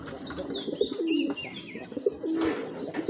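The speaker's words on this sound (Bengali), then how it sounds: "এত সুন্দর এক পেয়ার কবুতরের বাচ্চা" Pair of young high-flyer giribaz pigeons cooing up close, soft repeated throaty coos over a few seconds, with other faint bird chirps in a quiet setting.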